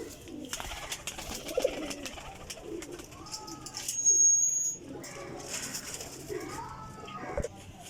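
Teddy golden pigeons coo in a loft, a steady run of soft, rolling coos from several birds close by, with one brief brighter call midway.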